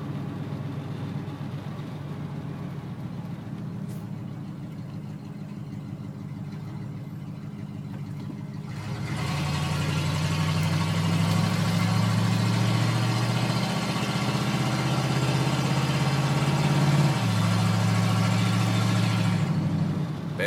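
Ford F100 pickup engine after a transmission rebuild, idling at first, then rising to a loud, steady low drone as the truck drives off, with a brief shift-like dip before it settles back.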